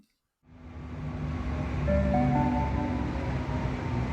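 A train at a Sydney railway station rumbles in after a moment of silence, building to a steady, loud roar with faint tonal whines over it.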